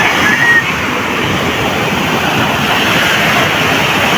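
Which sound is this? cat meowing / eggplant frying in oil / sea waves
sea waves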